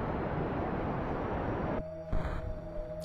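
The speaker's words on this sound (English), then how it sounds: "that is the sound of the Poodle engine running out of fuel" In Kerbal Space Program, a Poodle rocket engine's steady roar cuts out abruptly as it runs out of fuel, leaving a quieter hum with a brief sputter as the thrust dies.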